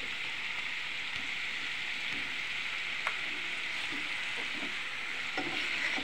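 Fried fish slides into a simmering masala in a pan, giving a steady close sizzle with a few soft stirring knocks and no voices.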